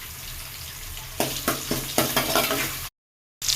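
Small onions, chillies and curry leaves fry in hot oil with a soft sizzle that swells into louder crackling as a spoon scrapes through them several times. The sound stops briefly, then returns.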